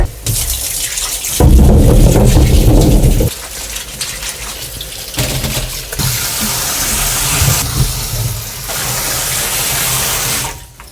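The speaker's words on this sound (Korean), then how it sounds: "이제 이 물은 이제 버리고서 한번 저 깨끗하게 헹굴게요." Water gushing and splashing in a kitchen sink as soaking water is poured off and cucumbers are rinsed under the tap, loud steady rushing that swells and shifts over several seconds.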